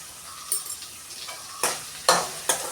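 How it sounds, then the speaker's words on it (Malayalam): Onion and green chillies sauté in a pan beside cooked beef and potato, a low sizzle punctuated by a few loud scraping stirs of a spoon against the pan. "അതിനോടൊപ്പം തന്നെ നമുക്കാണ് സവാളയും പച്ചമുളകും ഇട്ട് കൊടുക്കാം ഒന്ന് മൂത്ത് വരട്ടെ"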